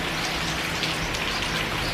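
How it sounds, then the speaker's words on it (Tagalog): Heavy rain pours down steadily, a dense, close hiss of drops drumming on surfaces with no letup and no voices. "Ang lakas ng ulan."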